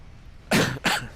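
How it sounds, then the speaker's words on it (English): Two sharp, loud coughs straight into a microphone, one after another about a third of a second apart, following a quiet moment. "I shouldn't be coughing into the mic."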